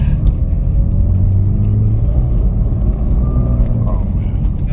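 A 650 hp Porsche 991 Turbo idles as it warms up, giving a steady low engine rumble close by, with people talking over it.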